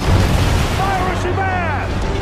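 In a video game, a pirate sloop of war fires rockets at a rival pirate ship. A dense, continuous roar carries rising whistling streaks that overlap one another.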